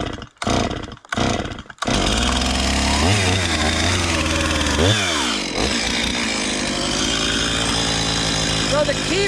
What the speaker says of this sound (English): carefully cut that off with the chainsaw